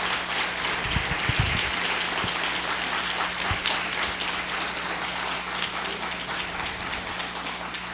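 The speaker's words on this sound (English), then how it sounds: "Give them a very big round of applause." A hall audience applauds children after their presentation at a Chinmaya Vrindavan event, a dense, steady wash of clapping that holds evenly throughout, with a few low thumps near the start.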